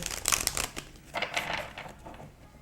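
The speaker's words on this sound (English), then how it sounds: "They're pretty thick stock cards, okay? So I have to get like a hard shuffle in." Thick oracle card stock given a hard shuffle, a close rustling and crinkling burst of card edges riffling together in several quick flurries, with no talk.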